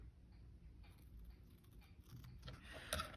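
Scissors cut fabric while an envelope journal is being made, a faint crisp snipping and slicing close up in a quiet room, growing a little louder toward the end.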